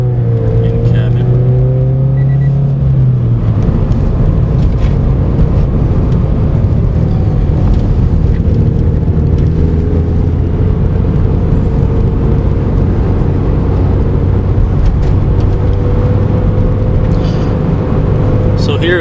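A steady, deep engine drone with a low rumbling growl from a Nameless Performance axle-back exhaust, heard from inside a moving car around 3,000 RPM, with someone talking over it throughout.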